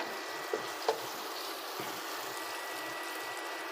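Garlic frying in a pan for fried rice, a steady close sizzle with a couple of soft knocks from a utensil and no talking.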